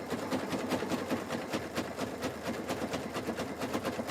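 A sewing machine stitches a jelly roll fabric rug with a fast, even rhythmic whirring and clatter, steady and close, at moderate volume without speech.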